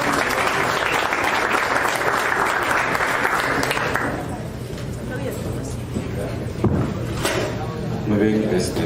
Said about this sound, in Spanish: le damos una bienvenida a don Carlos con un aplauso.